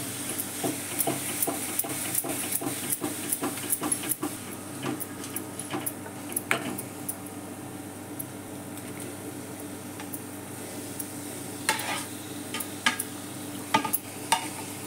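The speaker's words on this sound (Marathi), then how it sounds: "जरा हलक्या हलक्या हाताने कोळंबी परतायची" Prawns stir-frying in a ground masala paste for a dry prawn dish, with a steady soft sizzle under repeated close scraping and stirring strokes, scattered clicks and taps throughout, no talking.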